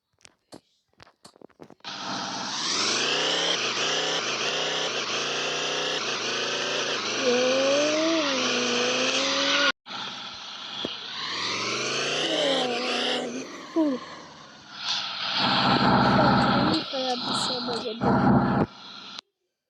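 In a video game, a car engine revs up and rises in pitch through several gear changes as the car pulls away, then grows rougher with skidding-like noise near the end.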